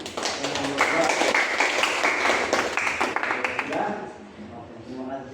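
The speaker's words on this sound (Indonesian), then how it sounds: "Oke, tepuk tangan." A school group applauding together at the end of a salted-egg-making class, a burst of dense clapping that fades after a few seconds, with voices talking through it.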